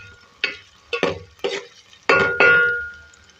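Onions softening in a cooking pan, stirred with a few separate scraping, clinking strokes against the pan, close and clear with quiet gaps between them.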